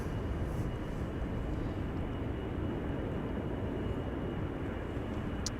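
A KLM Boeing 777-200 departing Amsterdam Schiphol, heard as a low, distant, even engine rumble that stays constant and fairly faint throughout, with no voices.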